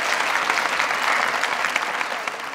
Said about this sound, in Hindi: तशरीफ रखें, बहुत सारी तालियां।